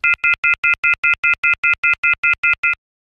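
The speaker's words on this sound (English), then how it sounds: "that was the phone off the hook" Telephone off-the-hook tone: a loud, steady run of about fourteen identical rapid electronic beeps in even rhythm, alone and close, stopping abruptly.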